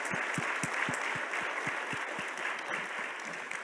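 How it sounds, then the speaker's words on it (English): A conference audience at a community safety summit plenary applauds, broad sustained clapping from many hands with a few distinct close claps popping rhythmically above the steady crowd wash. "I think we should all give a round of applause to public defenders."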